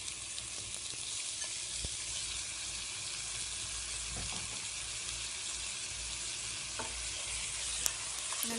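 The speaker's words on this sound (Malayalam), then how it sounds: "നല്ലപോലെ ഒന്ന് യോജിപ്പിച്ചെടുക്കാം" Chicken stirred into a pan of veg chicken korma, a continuous bubbling sizzle with occasional soft spoon scrapes against the pan, steady and close throughout.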